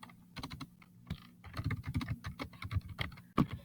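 Typing on a computer keyboard, a run of quick close key clicks at an uneven rhythm, heard alone with no voices.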